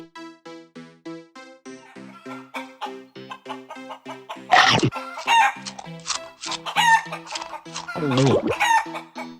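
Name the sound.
chickens clucking in a cartoon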